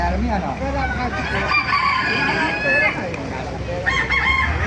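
Roosters crow repeatedly amid farmyard noise, several overlapping calls close by, with people talking quietly underneath.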